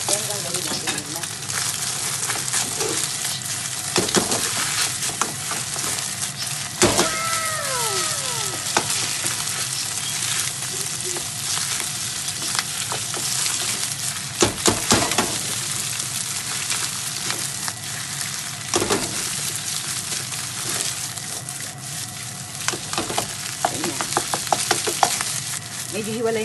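Rice fried in plenty of oil for chaofan, a loud, steady sizzle running throughout with frequent scraping stir strokes and occasional clanks of the utensil against the pan.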